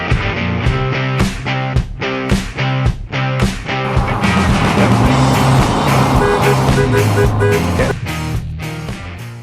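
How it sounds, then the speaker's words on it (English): A bus drives steadily on the road, its engine a continuous loud rumble with some rattling and passing traffic throughout, no voices heard. "We'll get on the bus."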